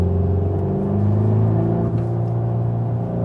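A Volkswagen T-Roc R performance SUV drives along with a steady, close engine drone and low rumble from inside the cabin, holding an even pitch throughout with no talk.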